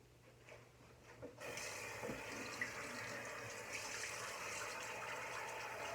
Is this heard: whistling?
no